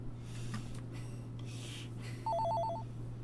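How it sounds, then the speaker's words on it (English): A phone rings in the video game Lost Call, a short electronic trilling burst that warbles rapidly for about half a second near the end, over a low steady hum and faint rustles. "Oh, and it's still ringing."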